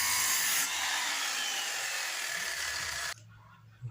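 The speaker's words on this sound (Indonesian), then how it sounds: "Lalu kita gergaji guys dengan gergaji sirkulasi ya" A circular saw cuts through wood for a lounge chair, a loud steady whine of blade through timber lasting about three seconds, then stopping abruptly as the blade runs down, close and with no talk.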